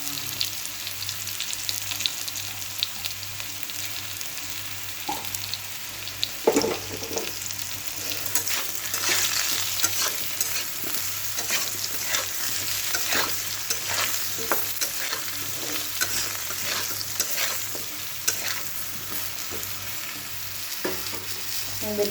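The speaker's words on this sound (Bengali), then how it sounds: "সবজিগুলো ভালো করে ভাজা হয়ে গেছে" Vegetables fry in a pan with turmeric while a Bengali fish curry is prepared, a steady oily sizzle running throughout with scraping stirs.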